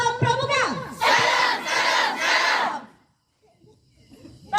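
A group of scouts on a torch parade shouts the Pramuka greeting in unison, three loud chanted bursts right after a leader's call, then near silence with faint voices.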